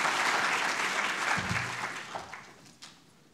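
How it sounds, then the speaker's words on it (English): An audience at a generative AI housing finance TechSprint demo day applauds a team, with steady clapping that fades over a few seconds as a few last claps trail off. "Round of applause for our team."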